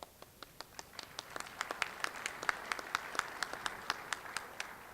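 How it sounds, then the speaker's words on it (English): Sparse clapping at a community breakfast, a handful of distinct hand claps in a loose, fairly steady rhythm, moderately quiet, continuing for about five seconds. "Yeah, go ahead and clap."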